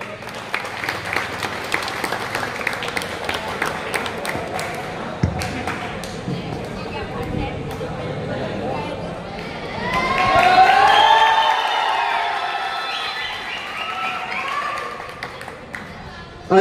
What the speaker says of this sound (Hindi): भाई तालियों में कमी ना हो।